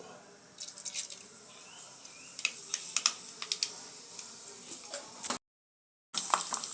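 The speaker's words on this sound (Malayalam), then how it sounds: "എണ്ണ ചൂടായപ്പോൾ നമ്മൾ കടുക് ഇടുകയാണ്" Mustard seeds sputter in hot oil in a home kitchen, with quiet irregular pops and crackles over a faint hiss, a short silent gap, then the hiss again.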